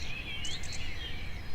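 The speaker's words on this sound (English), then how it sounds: "Hear the morning birds chirping." Morning birds chirping and warbling with thin high calls above a steady low rumble, faint and somewhat distant, with no talking.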